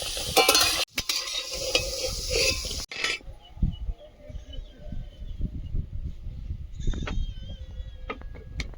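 Potatoes fry and sizzle in a pan with oil, with steady crackling and stirring throughout and a brief louder burst of sizzle at the start.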